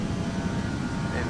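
Airliner engines at climb thrust in the Prepar3D flight simulator, a steady low roaring drone with no pauses, heard from inside the cockpit.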